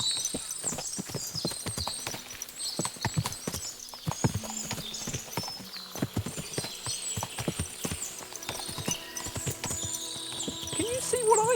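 Many horses trot in the video game Kingdom Come: Deliverance II with a dense, steady clip-clop of hooves, layered with a busy, bright background and an occasional whinny; no talking.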